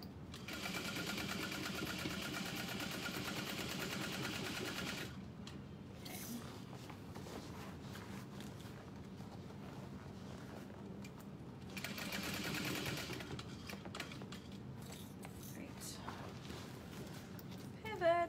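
A sewing machine stitches straight along the main panel of a satchel bag: a steady, fairly loud mechanical whir that runs, pauses briefly, then starts up again, with a person talking in between.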